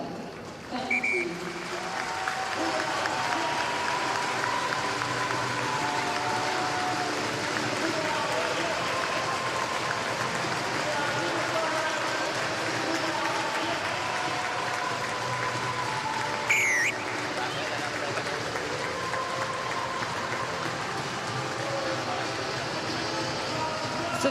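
A rugby league stadium crowd at a Women's World Cup match between France and the Cook Islands applauding, a broad sustained wash of clapping and crowd noise from a distance, with a voice speaking over it through much of the stretch.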